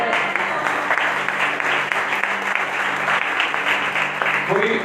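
A church congregation claps steadily through a Sunday fasting-and-prayer service, a dense, continuous wash of many hands at an even level with no pauses.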